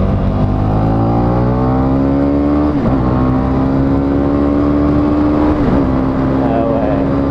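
A Honda CB300R motorcycle engine revs up loudly while riding on the road, pitch climbing steadily through two gear shifts with brief dips between, close and continuous with rushing wind noise.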